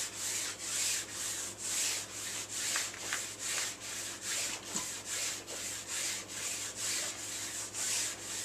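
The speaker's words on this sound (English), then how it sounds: "I'm pressing down as I'm going forward, and I'm letting the press and wax tool just ride when it's coming back" A Press'N'Wax-Pro tool rubs race wax onto a ski base in regular back-and-forth strokes, a close, dry scraping hiss pulsing about twice per second, with no talk.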